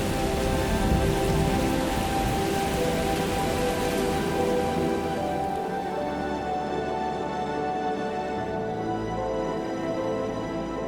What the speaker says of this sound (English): When rain finally arrives, it often comes in the form of intense but short-lived storms.